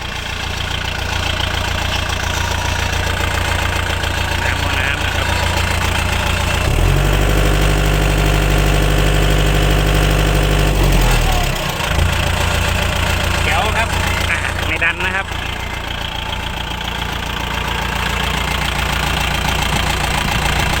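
A 2015 Kubota L4708 tractor engine idles loud and close, a continuous diesel rumble that shifts into a deeper, throbbing tone for several seconds midway before settling back.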